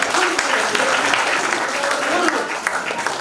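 Loud applause from an audience at a Parinam Healthcare talk in India, dense and steady for about three seconds, with voices carrying faintly beneath it.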